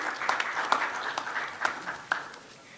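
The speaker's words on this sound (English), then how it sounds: "Please give him a round of applause as he prepares his presentation." A conference audience applauds, a fairly faint patter of separate claps with a few sharper ones standing out, thinning toward the end.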